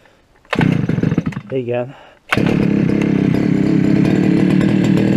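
A brush-cutter mower engine is pull-started for the first time this year, sputtering briefly, pausing, then catching into a loud steady high-revving two-stroke buzz; someone speaks a word at the start.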